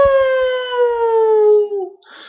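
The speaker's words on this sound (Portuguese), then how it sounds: "foi quebrada, novamente por um uivo malicioso, como um chamado da morte." A wolf howl used as a sound effect in a dramatized audio story, one long sustained mournful note slowly falling in pitch before fading, loud and close, then a brief rustle after it.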